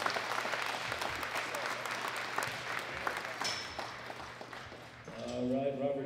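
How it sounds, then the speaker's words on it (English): Spectators at a world classic powerlifting championship applaud the junior men's 93 kg winners, dense clapping that thins out, then a voice comes in over the fading crowd near the end. "Big round of applause for all of our winners."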